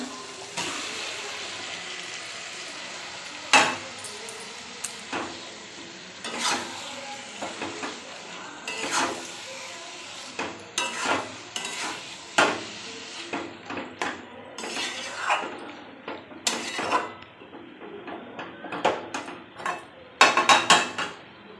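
Marinated chicken goes into a pan of cooked-down spice mix for a chicken curry and gets stirred, a spoon clanking and scraping against the metal pan in irregular sharp knocks over a low background hum.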